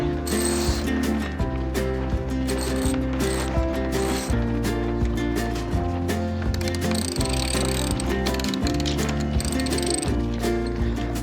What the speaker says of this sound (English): guiding the sail slugs in the track as I raise the mainsail